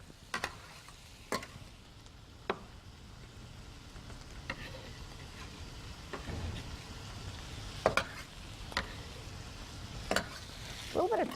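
Garlic and softened vegetables frying in a pan for jambalaya, a steady low sizzle under sharp, scattered scrapes and taps of a utensil stirring, fairly quiet and close, with no talking.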